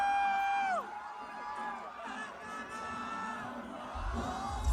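A festival crowd at Lady Gaga's Coachella set cheers and screams, a loud roar that drops after a moment into a sustained distant din of whoops and shouting voices.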